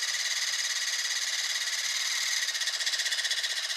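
A toy car's small electric motor whines steadily at a high pitch, buzzing with a slight pulsing flutter toward the end, close by.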